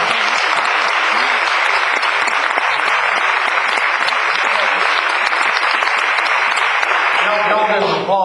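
Steady audience applause at an event with three North Carolina governors, a loud, even wash of clapping that runs unbroken and fades slightly at the very end as a voice begins.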